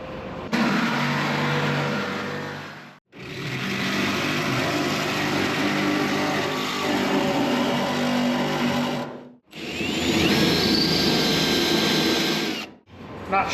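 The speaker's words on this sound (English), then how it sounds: "Andy's cutting away in there. I'm drilling my life away out here, and he's gonna make more noise, so have at it." Power tools cutting and drilling away rust on a 1967 Mustang fastback in a garage: three long, loud, steady whining grinds, each ending in a short pause, with a shrill squeal in the last run.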